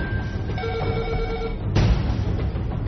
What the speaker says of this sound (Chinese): 一阵急促的电话铃声打破了办公室的平静